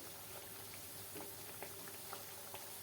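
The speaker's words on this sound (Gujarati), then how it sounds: "આ રીતે ખારીને ફેરવતા જઈ અને તે ક્રિસ્પી થાય ત્યાં સુધી તેને તળી લેવાની છે" Khari pastries deep-frying in hot oil give a continuous soft bubbling sizzle, with scattered small pops rising over the steady hiss; no talking.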